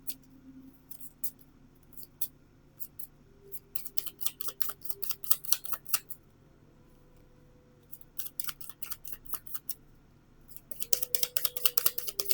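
Romance oracle cards being shuffled and pulled, heard as clusters of sharp rapid snapping flicks in bursts separated by pauses, close and quiet over a faint steady hum.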